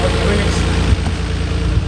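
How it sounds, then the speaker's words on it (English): A Nissan R32 GT-R with a suspected blown engine idles just after startup, giving a close, steady low rumble with slight vibration and no revving. "I was so sure I blew the motor I didn't bother picking up the camera for the startup."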